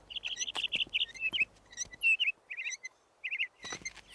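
A songbird in a cartoon sings a quick series of bright chirps and warbled trills, close and clear, broken by short pauses, with no talking.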